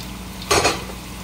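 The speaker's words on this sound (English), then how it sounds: "And I'm adding my mushrooms." Mushrooms dropped into a hot sauté pan give one short clatter and sizzle burst, with steady quiet kitchen noise before and after.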